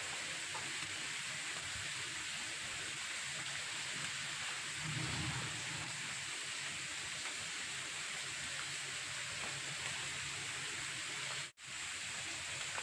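Steady rain falls continuously outdoors during a monsoon shower, producing an even hiss with a faint low rumble, with no voices.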